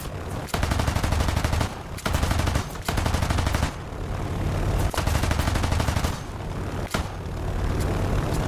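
Aircraft machine guns rattling in War Thunder during a Wake Island defense against Japanese bombers, loud continuous bursts broken by brief pauses, with engine drone underneath.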